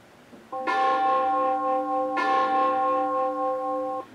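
Large church-style bell striking the hour, two loud, ringing strokes with sustained humming overtones that carry on and fade slowly, heard alone without talk.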